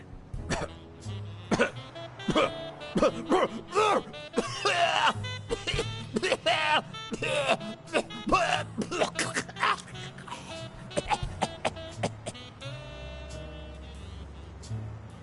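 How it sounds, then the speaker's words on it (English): Video game character coughing in Blacksad, a long run of harsh, repeated coughs and throat clearing in uneven bursts with a low background hum beneath. "You've got one nasty cough."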